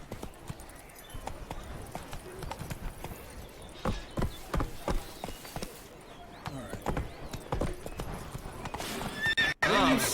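Roach the horse in The Witcher 3 video game neighs and whinnies over steady clip-clopping hooves, with brief bursts of in-game sound and a voice talking briefly in places.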